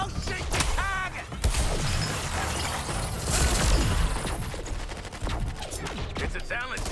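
Rapid gunfire in the Suicide Squad game, continuous bursts of close automatic shots mixed with mechanical clatter and effects, loud and busy throughout.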